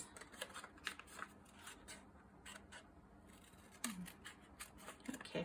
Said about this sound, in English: can always cut this